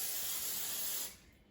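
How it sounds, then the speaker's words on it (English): A short, steady hiss of non-stick cooking spray misted into a small frying pan for scrambled eggs, about a second long, close and then cut off. "I'll just spray it with a non-stick cooking spray"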